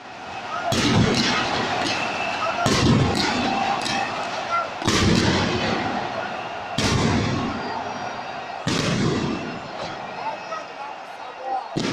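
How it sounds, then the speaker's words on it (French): Fireworks at a stadium inauguration ceremony boom in a slow series of loud, deep blasts about every two seconds, each followed by crackling rumble, with faint crowd noise underneath. "La cérémonie a pris fin par un autre ballet, celui des feux d'artifice."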